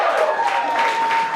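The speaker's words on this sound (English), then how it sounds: "Thank you so much for a round of applause for him" An audience at a live comedy roast applauds, a dense and steady wash of clapping from a crowded room, loud and continuous for a moment.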